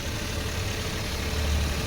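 Suzuki DA64W turbo engine idling steadily at about 1,500 RPM, a continuous low rumble that stays close and even throughout with no talk over it.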